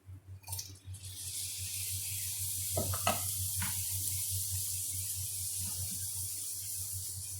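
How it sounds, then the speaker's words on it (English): Italian diced tomatoes are poured into a pot of fried chicken spaghetti. Wet plops and squishy splashes land over a constant sizzling hiss, with a few distinct splats clustered in the middle. "we're going to pour a little bit of Italian diced tomatoes in the pot"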